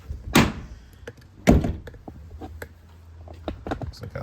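A Silverado truck door swings and thunks hard against the fender twice, with smaller taps and rattles of the door hardware following, close and loud with no talk.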